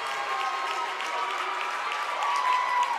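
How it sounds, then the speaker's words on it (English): A crowd at a girls' basketball game applauds continuously, a dense steady clapping that swells slightly toward the end, with faint voices mixed in. "will get a well-deserved round of applause as she checks out"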